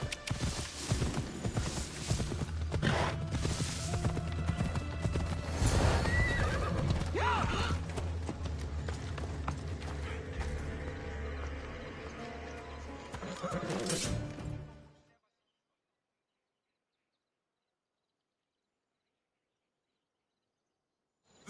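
In the Assassin's Creed Odyssey video game, a horse whinnies loudly while its hooves clop steadily. Faint bird chirps sit behind them. The sound is busy and close for about fifteen seconds, then cuts to silence.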